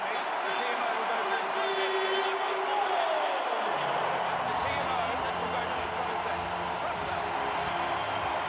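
A stadium crowd in Paris roars for a France try during a Six Nations rugby match, a dense sustained wall of cheering at full volume that runs the whole stretch, with a commentator talking over it.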